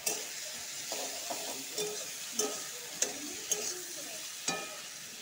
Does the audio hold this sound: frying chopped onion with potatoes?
yes